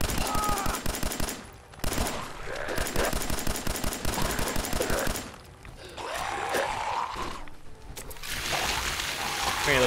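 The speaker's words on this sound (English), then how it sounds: "There's even more shooting over here." Rapid machine-gun bursts and repeated gunfire from the video game Fallout 4 run loud and nearly continuous, with brief pauses between volleys and a splashy, watery texture mixed in.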